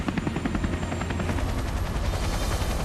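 The Bristow Flight 56C helicopter flies with a continuous thudding rotor beat over a dense engine roar, steady and loud throughout with no voices.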